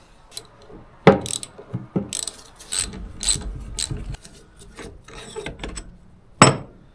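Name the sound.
removing end cap from starter motor with tools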